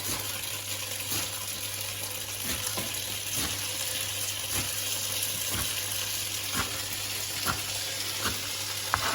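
Fava beans cooking in olive oil in a pan give a steady, close sizzle with a constant hum underneath and light periodic clicks throughout.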